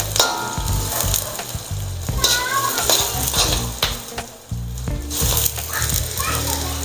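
Onions sizzle and crackle steadily in a hot pan while cooking Surinamese chicken masala, with occasional scraping stirs and a voice talking over the cooking.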